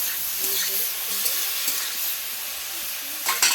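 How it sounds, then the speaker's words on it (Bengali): Snake gourd stirred in a hot pan, a loud continuous sizzle broken by scraping spatula strokes, with a few sharper clatters near the end. "দেখো এবার আমি চিচিঙ্গাটাও দিয়ে দেবো সাথে, দিয়ে নেড়ে চেড়ে আমি জলটা ঢেলে দেবো।"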